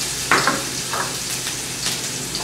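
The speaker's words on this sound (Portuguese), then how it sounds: "Deixa dar uma refogada." Garlic sizzles steadily in a drizzle of olive oil in a pan, a close, even frying hiss broken by a few soft stirring scrapes.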